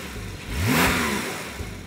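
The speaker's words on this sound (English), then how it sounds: "Now, normally the car sounds like this." A 2021 Porsche 911 Turbo S engine with standard exhaust revs up in one quick rising blip and settles back toward idle, a moderately loud, smooth exhaust note with no voices.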